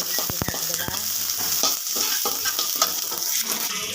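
Onions frying in hot oil for a vegetable biryani, a dense continuous sizzle close up, broken by a few sharp clinks and scrapes of a spoon stirring in the pan; no talk.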